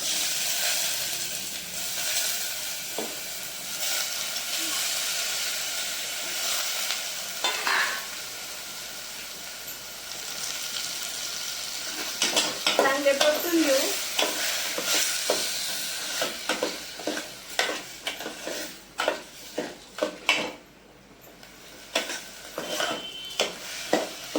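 Washed rice is tipped onto fried garlic in a pan, giving a soft steady sizzle and hiss, then a run of scraping, clinking stirring strokes that grow busier and more irregular toward the end, fairly close and without talk.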